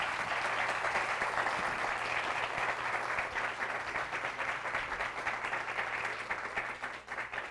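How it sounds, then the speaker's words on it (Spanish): A large audience at a university talk applauds steadily, a dense wash of clapping that holds at full strength throughout without letting up. "Un aplauso, por favor."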